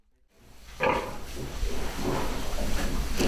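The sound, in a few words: Welsh breeding sows and piglets grunting in a farrowing pen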